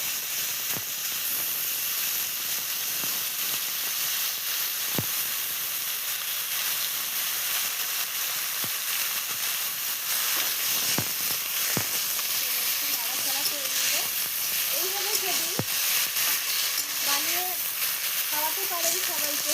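Water lily stems fry in a pan with a loud, continuous hissing sizzle and scattered crackles, while a voice talks faintly underneath toward the end.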